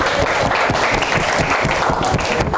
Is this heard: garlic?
no